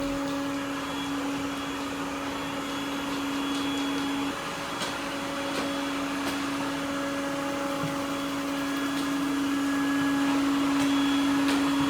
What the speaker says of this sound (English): this robot vacuum is not overly loud either like some of the others I've tested